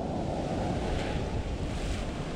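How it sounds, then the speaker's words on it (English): Ocean surf on a beach in Mombasa, Kenya makes a constant, loud wash of waves, heavily buffeted by wind noise on the microphone. "look at the waves"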